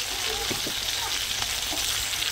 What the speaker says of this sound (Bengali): আদাগুলো দিয়ে আমি ভালো করে নেড়ে নেবো।